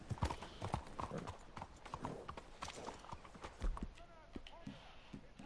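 A steady clip-clop of horse hooves trotting in Red Dead Redemption 2, close and continuous, with someone talking over part of it.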